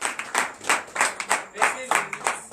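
A congregation clapping in acclamation during a night deliverance prayer service, with loud, uneven bursts of hand claps mixed with voices and shouting close by.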